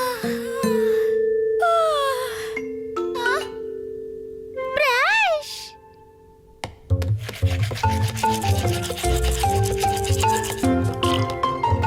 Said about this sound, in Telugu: బ్రష్ చెయ్యండి